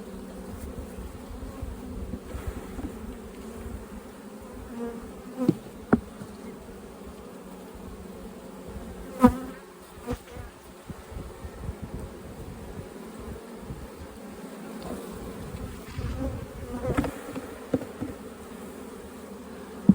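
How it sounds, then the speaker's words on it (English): A steady insect buzz of honey bees shaken from a hive frame fills the clip, with a few louder passes and brief knocks over a low, continuous hum. "I'm going to give him a shake or two of bees."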